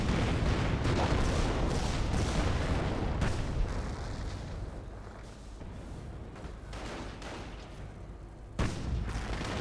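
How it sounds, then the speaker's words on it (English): A sector artillery barrage in Company of Heroes: dense, continuous rumbling shell blasts and booms, loud and sustained, easing slightly midway before a sharp new impact near the end. "Sector artillery in this sector."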